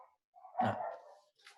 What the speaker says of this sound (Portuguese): É o cachorro que latiu.